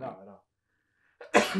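A single sharp, close sneeze comes right after a short spoken phrase and a moment of silence.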